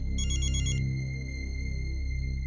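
A phone rings with a steady electronic ringtone, a short bright melodic burst followed by sustained tones over a low droning background, moderately loud and with no speech.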